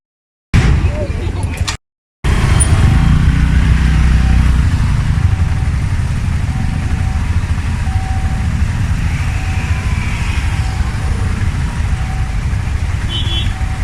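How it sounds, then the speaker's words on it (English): Congested road traffic in Negombo, Sri Lanka: a steady, loud engine rumble from nearby vehicles and motorcycles, with a short break near the start and faint higher tones drifting through. "Quite a traffic jam."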